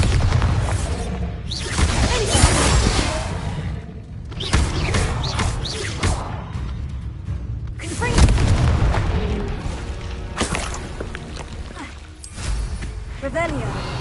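Bombarda spell explosions in Hogwarts Legacy, several loud, close blasts arriving in bursts a few seconds apart, each with a broad crashing roar and debris-like rumble, with a voice heard alongside.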